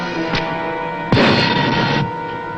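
A submarine torpedo launch aboard a WWII-era boat: a sudden loud whooshing burst that holds for nearly a second before cutting off, preceded by a faint thump, over steady low engine hum.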